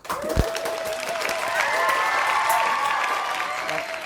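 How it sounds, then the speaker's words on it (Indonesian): Audience applause welcomes a speaker at an Isra Mi'raj talk event, a steady wash of clapping lasting the whole stretch, with some talking and a faint tonal hum mixed in. "Beri tepuk tangan yang meriah untuk Bapak Saufi."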